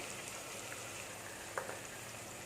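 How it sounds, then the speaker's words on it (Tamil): Onions sauté in ghee for Dindigul Thalappakatti-style mutton biryani, a faint, steady frying crackle with one small clink partway through. "இது நெய்யில் வதங்கிறது தான் பிரியாணிக்கு வாசமே"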